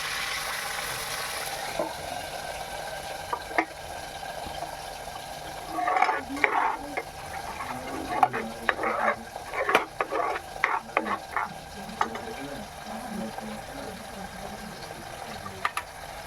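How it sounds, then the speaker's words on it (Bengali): Fried parshe fish curry with two slit green chillies being stirred in a pan, a soft steady sizzle under repeated scraping and clanking strokes that cluster in the middle and grow sparser toward the end. "আবারও ভালো করে নেড়ে চেড়ে দিচ্ছি"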